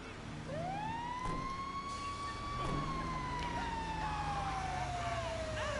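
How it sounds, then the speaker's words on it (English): A police car siren wails in the video game GTA 5, one long rising and falling tone sounding steadily and fairly close for several seconds over low engine rumble. "And when having the siren on,"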